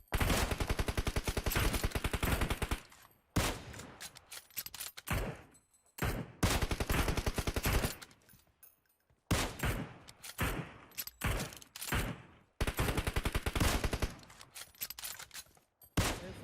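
Bursts of automatic gunfire in PUBG Mobile, loud rapid volleys separated by short pauses, repeating across the stretch with a few single shots between them.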